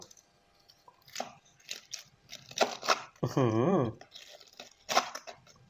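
Crispy fried chicken batter made in the KFC style is bitten into, giving several sharp, close crunches, with a short voiced hum of appreciation in the middle and no other talk.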